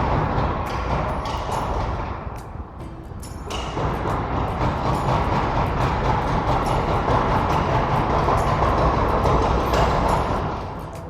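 Loud, steady droning vibration from an electric vehicle conversion, a dense rumbling hum with rattling overtones that holds for about eleven seconds, dipping briefly early on and then fading slightly at the end, with no talk.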